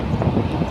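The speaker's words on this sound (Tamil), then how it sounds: "காற்று அப்படி அடிக்கிறதுனால ஒன்றும் பண்ண முடியாது" Strong wind buffets an outdoor microphone in a steady, loud, low rumble that persists throughout with no speech.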